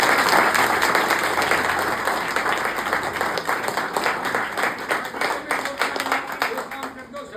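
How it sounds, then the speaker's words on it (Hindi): Village crowd at a gathering honouring a local figure in Narnaul claps together, a loud dense burst that thins into scattered, uneven hand claps as it fades. "हाथ एक बार ताली बजाओ।"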